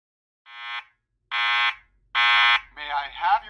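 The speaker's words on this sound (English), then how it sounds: "This is System Test 72, Simplex Vibrating Bell." Simplex vibrating fire alarm bell sounding in three separate loud ringing bursts, each under half a second long and growing louder, followed by a warbling tone as a voice begins.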